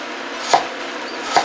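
A kitchen knife cuts through ingredients for pancit habhab, two distinct chops on a board about a second apart, close and clear over a steady background hiss.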